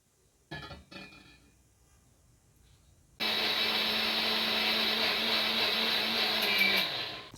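A kitchen mixer grinder blends a spicy chilli paste with ginger for a dried-fish curry: a few brief clatters, a quiet pause, then a loud steady whirring motor that runs on without pause.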